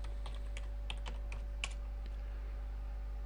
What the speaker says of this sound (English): I just need to type in the name of my user, which is peel demo